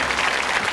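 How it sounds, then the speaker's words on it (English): Steady, dense applause from a studio audience at a quiz show, greeting a contestant, filling the whole moment with no break or voice over it. "Let's applaud his last curtain call, Paul Campion."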